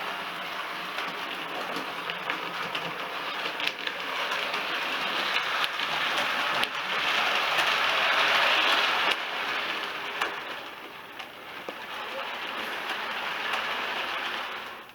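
A long model train, a garden-railway layout with new wagons and a Coronation locomotive, runs steadily on its track with a continuous rumbling clatter that swells around the middle, with no talking.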